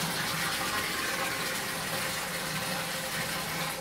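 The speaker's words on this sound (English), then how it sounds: "So I'm going to start filling here. I've got real good pressure here." Tap water gushes steadily into a brewing kettle of an automated electric brewing system, a loud, even rushing fill under good pressure that carries on without a break.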